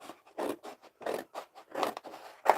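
Scissors snip through thick Bristol board paper in a series of short, crisp cuts with brief pauses between strokes, close and fairly quiet.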